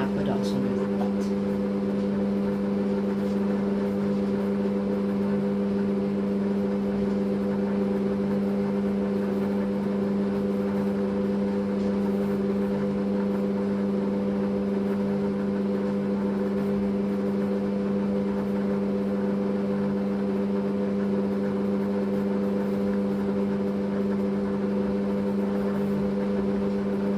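A Fagor connected food processor runs continuously while kneading dough, producing a close, unbroken motor drone with a strong tonal whine and a soft churning rumble beneath. The sound stays even from start to finish.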